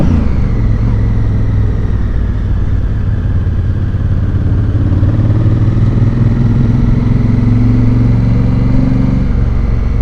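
Motorcycles ridden near Madara, Bulgaria, heard as a loud, steady engine drone with low rumbling tones and slowly shifting pitch as the bikes ride and slow toward parking, close and continuous without talk.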